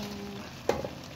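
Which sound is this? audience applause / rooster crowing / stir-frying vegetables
stir-frying vegetables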